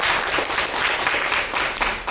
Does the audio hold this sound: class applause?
yes